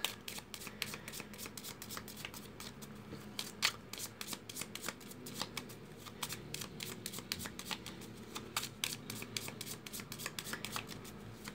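Cards are shuffled repeatedly in a quick, crisp riffling rhythm, close up, with no one speaking.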